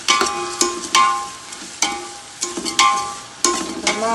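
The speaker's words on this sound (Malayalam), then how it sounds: "ബീഫ് പൊരിച്ച അതേ എണ്ണയിലാണ് ഞാനിത് എല്ലാം പച്ചമുളക്, ഇഞ്ചി, വെളുത്തുള്ളി, കറിവേപ്പ് എല്ലാം കൂടി ഇട്ട് ഒന്ന് വാട്ടുന്നത്" Green chili, ginger, garlic and curry leaves sautéing in oil left from frying beef for a beef pickle, with sizzling under repeated sharp scrapes and clinks of a spoon stirring against the pan.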